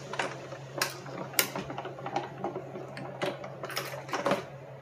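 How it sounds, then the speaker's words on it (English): A die cutting machine running white cardstock through, a close series of irregular mechanical clicks and rattling cranks over a low steady hum. "Quickly run this through my die cutting machine."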